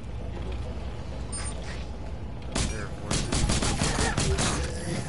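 Rapid pistol gunfire in a shooter video game crackles amid dense game noise and mechanical clatter, with several sharp bursts toward the end.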